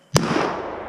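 A single sharp shotgun blast on a bird hunt at a game preserve, loud and close, followed by a brief ringing decay with no talk.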